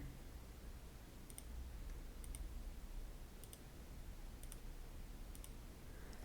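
Computer mouse clicks while navigating a web browser, five or six crisp paired clicks spaced about a second apart, faint and close over a quiet hiss of room noise.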